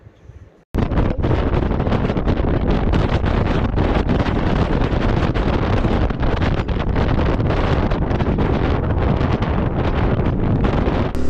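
Strong mountain wind near Muktinath, Nepal, starts abruptly after a quiet instant and then roars hard and unbroken against the microphone, loud and gusty throughout.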